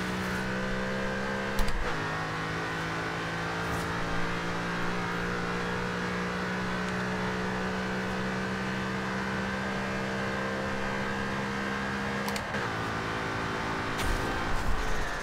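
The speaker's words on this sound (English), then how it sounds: "let's just see how fast this fully upgraded GT can go" A fully upgraded 2005 Ford GT in the Forza Horizon 2 racing game holds a loud, sustained engine drone with steady harmonic whine, broken by brief shift or bump transients near the start and end.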